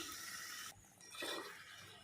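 Water poured into mutton masala frying in oil in a pan gives a brief rushing splash and hiss, fairly close and steady, with no talking.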